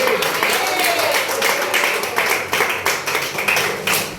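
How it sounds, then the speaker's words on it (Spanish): A church congregation claps together, a dense sustained round of applause with many overlapping hand claps, fairly loud and steady, with voices mixed in beneath. "Eso se merece doble aplauso para nuestro Padre."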